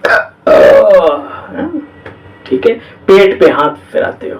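A person burps loudly after a meal, one close belch near the start, followed by someone speaking in Hindi.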